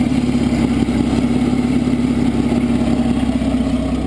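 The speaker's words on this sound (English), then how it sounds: "You can probably hear that exhaust leak, which is right down here." Exhaust leak on a running 1940 Chrysler Windsor Coupe, a steady low engine idle with a rough, puffing exhaust hum heard close and continuous, no voices.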